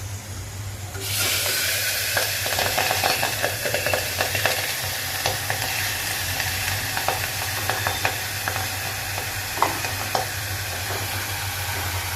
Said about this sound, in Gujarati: તો તેનો સરસ રીતે વઘાર કરી લઈએ.